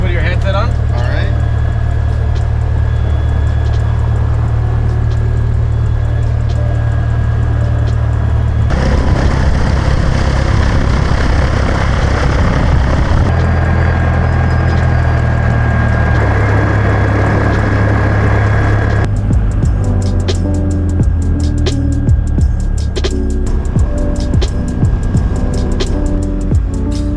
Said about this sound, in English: Then we had to start the engine and begin the taxiing process.